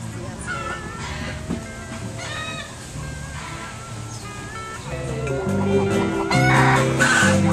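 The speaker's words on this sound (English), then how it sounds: "Are you making all those chicken sounds?" Chickens cluck and squawk repeatedly on a Hawaiian outing, mixed with rumbling background noise and a few distant voices, growing louder toward the end.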